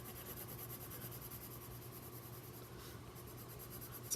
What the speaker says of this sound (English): This is the yellow watercolor pencil, so I'll just go ahead and do a little coloring here